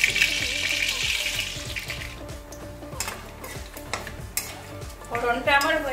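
Whole cumin seeds, a dried red chilli, two bay leaves, cloves, cinnamon and cardamom crackle and sizzle in hot oil for a Bengali pointed gourd curry, with steady spitting, a few utensil clinks and a brighter burst of frying near the end.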